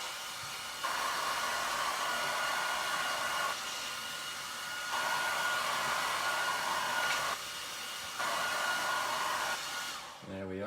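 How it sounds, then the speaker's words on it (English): A hair dryer blows steadily with a broadband rush, drying paint on glass, cutting on and off in several bursts of a few seconds each, close and loud. "I'm going to give it a quick blast with the hairdryer."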